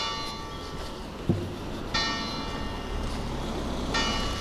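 Church bells ring on through the span, a sustained, fairly distant metallic tone with fresh strikes arriving at intervals over a quiet outdoor background.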